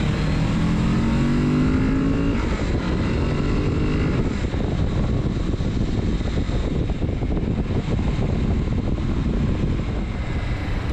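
A 2024 Kawasaki Z650RS motorcycle ridden through town streets, its engine droning loud and steady with a rising rev and gear-change shifts amid constant wind rush, no voices.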